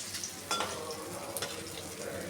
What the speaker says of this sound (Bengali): আর একটা পিঠ একই রকমভাবে ভেজে নেব।